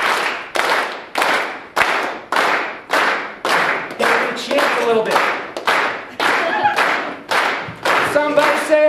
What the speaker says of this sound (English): Simon says start clapping in a slow rhythm